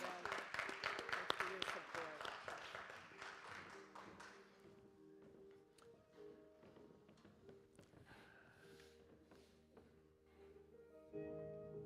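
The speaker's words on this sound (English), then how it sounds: "Give them a round of applause." Applause at a Unity of Sacramento service for prayer class graduates starts as a brisk, close round of clapping, then thins out to scattered claps and quiet room sounds.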